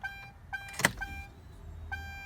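A 1998–2005 Ford Panther platform car's fuel system primes after a fuel filter replacement as the key is cycled: short electric pump whirs and tonal hums start and stop in a few bursts, near and fairly quiet, with one sharper click in the middle.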